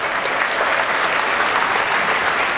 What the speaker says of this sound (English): If we could give them all a round of applause.